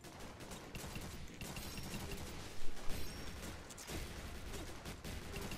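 Rapid gunfire from the G.I. Joe: Operation Blackout video game, a dense continuous fusillade with a few louder bursts near the middle, no talking over it.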